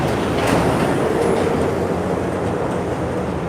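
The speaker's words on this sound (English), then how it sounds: "the trams here in Hong Kong are double-decker trams" A Hong Kong double-decker tram rolls along steadily, a dense continuous rumble of wheels and rail noise with no pauses, close and fairly loud throughout.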